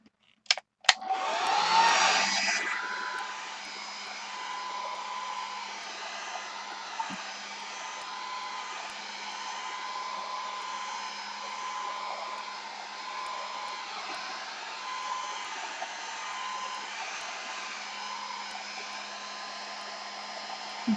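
A hair dryer switches on and blows steadily at close range to dry a paint layer on a Gelli print, its constant whir running uninterrupted and alone.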